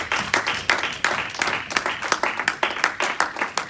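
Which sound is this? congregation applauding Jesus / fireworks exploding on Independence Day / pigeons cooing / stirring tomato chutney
congregation applauding Jesus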